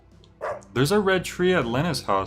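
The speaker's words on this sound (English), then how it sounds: "Don't tell me that's the dog from the first game." A dog barks in the video game Deadly Premonition 2, a few yips and bow-wows mixed tightly with a voice speaking over game audio.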